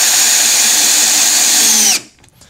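A power drill drives short screws into wood while a hedgehog house is built, whining loud and steady for about two seconds before it abruptly stops and leaves near silence.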